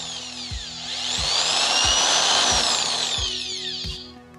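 A powerful electric drill running on a 200-watt solar inverter whines loudly with a high, slightly wavering motor pitch, revving up and holding steady, with rhythmic low thumps as it runs unevenly.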